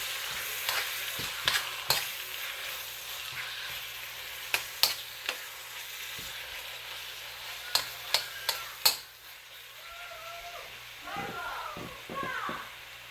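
Beef and garlic stir-frying in a pan give a steady sizzle, with sharp clicks and scrapes of a utensil at intervals and a voice speaking faintly over the cooking.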